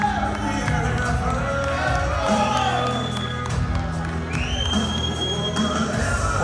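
A crowd cheers and whoops for the winning senior-category 100 kg athlete at an award ceremony, with continuous loud applause and shouts over an announcer's voice.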